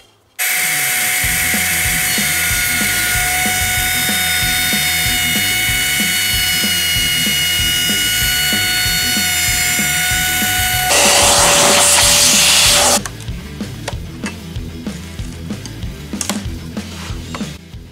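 A power tool cuts a speaker hole for a VW Super Beetle speaker box, holding a loud, steady high whine for about eleven seconds. It surges into a harsher burst, then gives way to rougher, choppier cutting noise with no talking.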